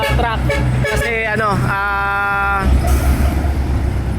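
Heavy trucks roll along a road beside the ongoing SLEX expressway construction between Laguna and Quezon, with a low continuous engine rumble and a brief steady horn-like tone, while someone talks over the traffic.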